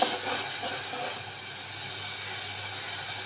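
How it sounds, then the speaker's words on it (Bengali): Spice paste of turmeric, ginger and garlic frying in a pan for a bottle gourd curry, giving a steady, even sizzle and hiss that holds at one level throughout. "তো মশলা কষানো হচ্ছে, 2 চামচ হলুদ, আদা রসুন দেওয়া হয়েছে 1 চামচ।"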